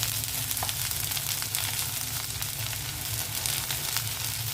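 Okra fries in a pan, a dense, continuous close-up sizzle with a steady crackling hiss and small popping bursts, unbroken for the whole stretch.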